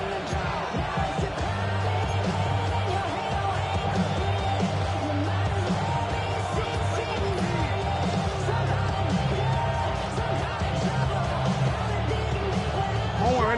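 Football stadium crowd cheering and roaring steadily from start to finish, a dense sustained wall of noise with scattered whoops and yells rising out of it.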